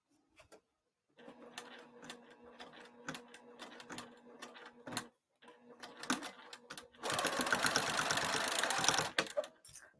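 A sewing machine stitches across a nylon zipper on a cross-body bag in short, stop-start runs with a steady mechanical whir, finishing in a louder, faster sustained burst near the end.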